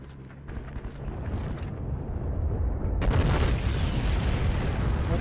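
Bombs explode nearby in the World War II shooter Heroes and Generals, rolling booms and rumbling blasts building in loudness over a dense battlefield din, with no speech.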